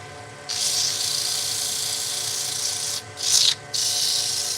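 Sanding on torrefied ash wood produces a steady abrasive hiss that starts after a brief pause, runs evenly for a few seconds, drops out briefly, then returns with a short louder burst before continuing.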